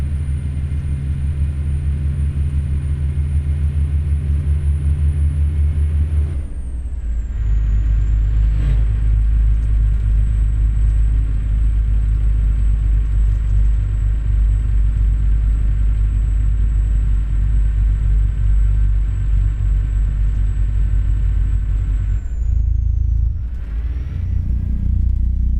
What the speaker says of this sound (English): it's not the meanest sounding Jake brake, but it actually doesn't sound too bad